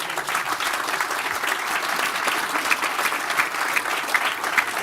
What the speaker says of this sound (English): So how about a round of applause for our panelists?